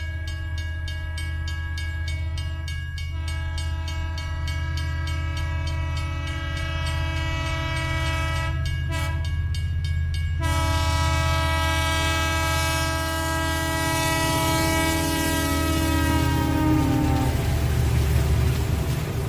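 A train heading into Nuwara Eliya in Sri Lanka, set in the early 1900s, rumbles steadily with a sustained horn or whistle tone sounding over it, loud and close throughout with no talk.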